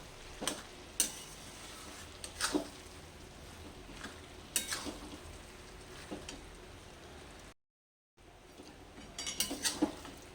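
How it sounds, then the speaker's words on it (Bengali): Grated coconut stirred with ash gourd in a pan, soft intermittent scraping strokes of a spatula spaced a second or two apart over a faint sizzle, with a brief silent gap. "এবারে এ সময় আমি নারকেল কোড়াটা দিয়ে দিচ্ছি এবার ভালো করে একটু নাড়তে হবে"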